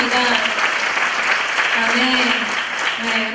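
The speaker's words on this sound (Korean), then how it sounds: "우리의 모든 것으로 다시 한번 우리 하나님께 영광과 찬양의 큰 박수 올려드리겠습니다" A church congregation at a young adults' worship service gives loud, sustained applause, with a voice carrying over it.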